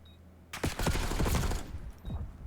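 Rapid bursts of automatic gunfire from an esports shooter match, loud and dense for about a second, followed by a few fainter shots.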